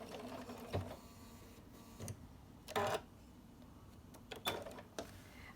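A sewing machine makes a few brief, faint stitching bursts while starting quilt binding with a back stitch, separated by quiet gaps and light handling clicks.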